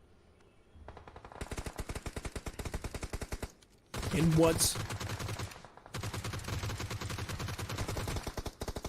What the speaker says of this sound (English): You can hear so many gunshots.